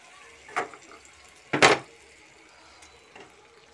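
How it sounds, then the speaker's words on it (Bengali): Hot water poured into browned meat curry in a home kitchen: a small knock, then a short, sharp hissing splash near the middle, with quiet afterward. "মা গরম জলটা দিয়ে দিল"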